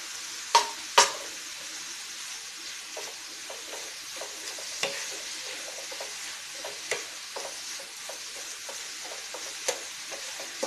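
Banana pieces cooking in melted sugar in a pan give a soft, steady sizzle, with two sharp knocks near the start and then light, occasional clicks of stirring.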